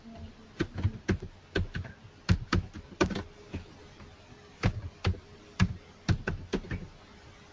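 Keys clatter on a computer keyboard in irregular bursts of sharp taps, close and moderately loud, with short pauses between clusters of keystrokes and no speech.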